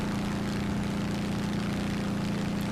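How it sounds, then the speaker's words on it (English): Twin aircraft engines in War Thunder drone steadily and loudly as the plane skids along the ground, a continuous low hum with no talk over it. "I just skid on the ground and both my engines are going."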